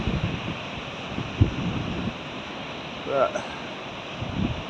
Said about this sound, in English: See the waves coming in really quick.